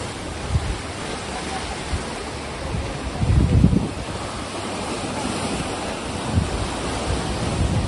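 Sea waves wash onto the shore below a hillside temple near Ganpatipule in Ratnagiri, a steady rushing surf with a fuller swell around the middle, mixed with wind buffeting the microphone.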